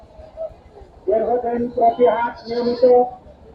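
Goats at a busy goat market bleating close by, a run of wavering calls overlapping one another, over background chatter of people.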